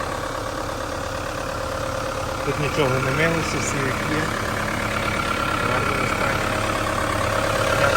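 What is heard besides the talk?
Chevrolet Captiva 2.2 diesel engine idling with hood open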